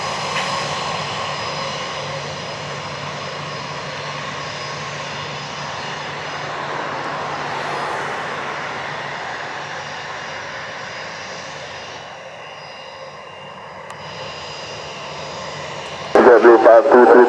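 A fixed-wing airplane's engines roar steadily nearby at Montego Bay airport in Jamaica, a broad sustained drone that eases and dips before a sharp clatter at the end.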